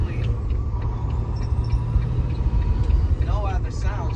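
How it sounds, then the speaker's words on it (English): A glider truck cruising on the freeway with a heavy, constant low engine and road drone, a faint rising whistle from the turbocharger spooling up toward the end. "as you can hear the turbo spool up"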